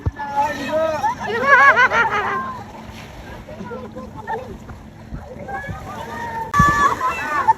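Water splashes and sloshes as people bathe in a river at a rural sitio, lively splashing mixed with a crowd's chatter and laughter nearby.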